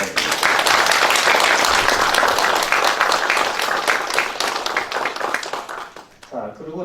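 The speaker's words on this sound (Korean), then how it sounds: "감사하는 말 함으로 박수 한번 드립니다." Dense, steady applause from a class of adult students fills the room for about six seconds, then thins and fades into a few scattered claps before a voice starts speaking.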